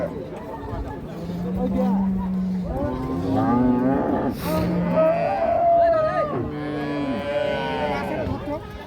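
A Holstein Friesian cow at a busy cattle market moos in long drawn-out calls, loud and close, while people talk nearby.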